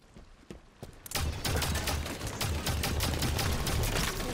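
Automatic weapon fire in Halo multiplayer comes as a rapid, continuous stream of loud shots that kicks in after a few scattered early pops and stays dense and steady to the end.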